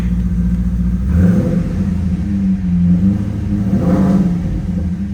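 A deep, close 2002 Chevrolet Corvette Z06 engine rumbles and revs around 2,000 RPM through a Borla exhaust, rising in two throaty swells with a low burbling idle between.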